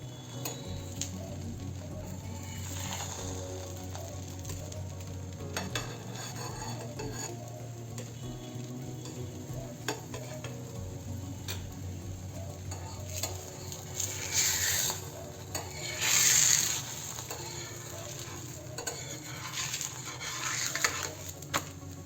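Radish paratha roasting on a hot pan over raised gas heat, giving a steady soft sizzle throughout with brief louder crackling bursts; no talking.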